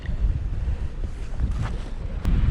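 Strong wind buffets the microphone in rumbling gusts at Spinney Mountain Reservoir, with a faint wash of water in the background.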